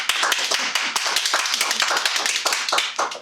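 A big round of applause from a Toastmasters club audience, dense and steady clapping from many hands at close range, with no talk over it.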